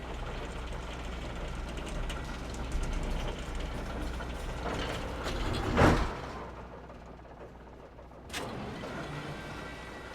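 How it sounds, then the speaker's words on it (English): Cable car machinery runs in the PC game Alan Wake as a steady mechanical hum and rumble, swelling louder briefly midway and again near the end. "Oh, great. Another cable car."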